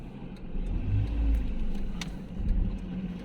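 A car rolls slowly toward a pedestrian crossing during driving-test practice at Darnytska Square, its steady mid-range engine rumble and road noise continuous and fairly close, swelling slightly midway, with no talk.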